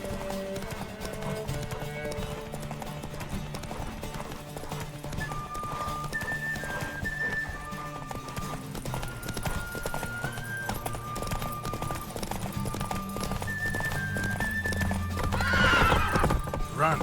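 Roach, the horse in a video game, gallops with a steady rapid clip-clop under game music, then gives a loud whinny near the end.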